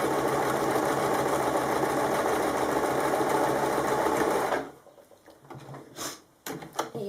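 A domestic sewing machine runs steadily for several seconds, stitching a kimono wrap top, then stops abruptly, leaving quiet handling clicks and small knocks from the machine and fabric.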